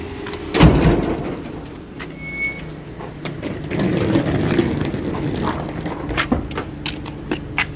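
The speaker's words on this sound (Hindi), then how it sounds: "वो जी गाड़ी अपनी आ गई है।" A vehicle rolls up nearby with a low engine rumble, a sharp thump and scattered clicks, then idles with faint rattles.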